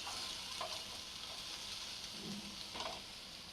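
Sponge gourd frying in a pan on a high flame, a dense, even hiss of sizzling oil with a couple of soft stirring scrapes, close and steady, no talking.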